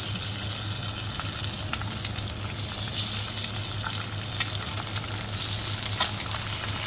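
Fish frying one piece at a time in hot mustard oil in a wok, a steady loud sizzle with crackling pops and a low hum underneath, no voices.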